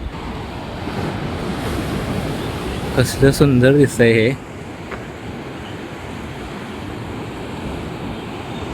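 Ocean surf crashes below a cliff in Bali as a constant, loud, rumbling roar mixed with wind buffeting the microphone; a person speaks briefly midway over the waves.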